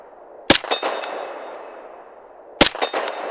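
Two sharp metallic clangs about two seconds apart as pistol rounds from a Sig P320 strike a steel target, each ringing briefly with a trailing echo over faint outdoor background.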